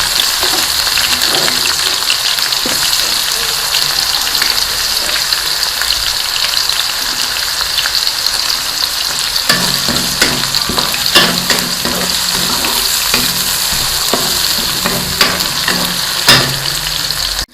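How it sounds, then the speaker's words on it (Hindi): Onion with ginger-garlic paste sizzles loudly in a pan for a pumpkin curry, a constant close frying hiss with occasional stirring scrapes and clinks, no talking. "अब यहाँ पर इसमें मैं जो है वो अदरक और लहसुन का पेस्ट शामिल कर दूँगी और इसको अच्छे से जो है वो 1-2 मिनट के लिए भून दूँगी"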